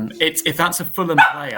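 A puppy yips and barks in short high bursts close by, mixed in with someone talking over it.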